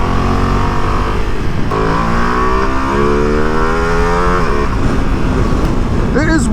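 A 2025 Ducati Multistrada V2 motorcycle's engine pulls through the revs, rising and falling in pitch at steady loud volume while on the move, with wind rush and a voice talking over it.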